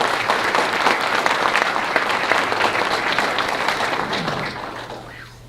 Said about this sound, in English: Let's give your mayor a great round of applause.